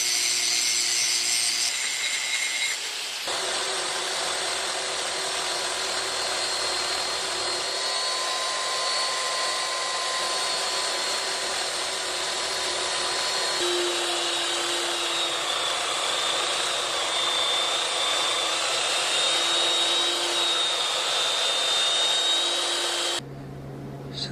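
Two tacked-together steel plates are ground with a loud, sustained, high whining grind that runs almost without pause, its pitch wavering slightly as the tool works the metal, before cutting off abruptly.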